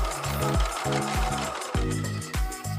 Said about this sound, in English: I'm sewing maybe a 1/16 of an inch away from the edge of the fabric